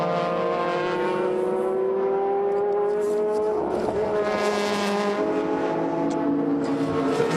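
Super GT race cars, including a GT300 Ferrari, circling at Motegi during a 2006 300 km race, a steady sustained engine drone with shifting pitch as cars pass, loud and continuous throughout.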